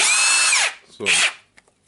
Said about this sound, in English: for now we don't have the wobble sound when the tool is working